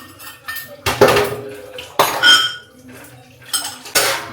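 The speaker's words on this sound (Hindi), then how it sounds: "मैं धो लेती हूँ बर्तन" Dishes, pots and utensils being washed by hand in a home kitchen, with repeated clanks and clinks of metal cookware and cutlery arriving in bursts, close and fairly loud, with no talking.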